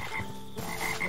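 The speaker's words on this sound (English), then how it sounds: "Yo, those frogs!" Frogs croak in a Minecraft modpack video game, Roguelike Adventures and Dungeons. Loud, close croaks repeat in quick rough bursts over game ambience, with no talking.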